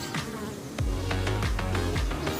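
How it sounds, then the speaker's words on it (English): A wasp buzzes in a backyard meadow, a busy droning hum with repeated swooping passes close by, steady and fairly loud for a couple of seconds with no voices. "A wasp!"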